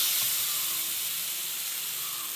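Steady loud hiss of pomfret fish sizzling on a hot tawa, a continuous frying sound with no talking.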